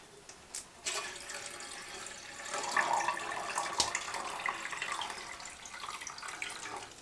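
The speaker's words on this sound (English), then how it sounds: "need to put water in my water bottle for when I walk" Water pours into a water bottle inside a heated tent during a -23° winter overnighter, a steady close splashing flow running throughout with a brief louder surge midway.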